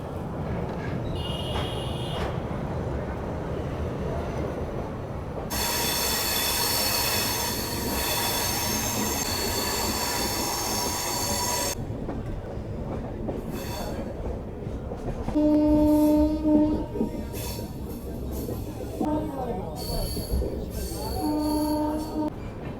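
A train on the Puri to Kolkata route rolls along steadily, with loud bursts of squealing wheels and horn-like tones over the continuous rumble of the carriages. No one speaks.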